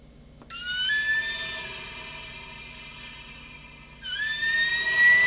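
Compressed air blows straight out the barrel of an Air Venturi Avenger air rifle with a faulty regulator, making two loud, high-pitched hissing bursts separated by a short pause.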